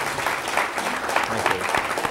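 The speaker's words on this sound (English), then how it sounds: "I will ask you for a round of applause for our guests this evening" A lecture-hall audience at the Dole Institute gives steady, dense applause for the evening's guests. The clapping is full and continuous throughout.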